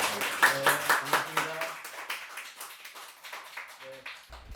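Audience applause welcoming a lecturer to a lecture hall: a burst of clapping with sharp, regular hand claps, fairly close and moderately loud, fading over a few seconds with a brief voice near the end.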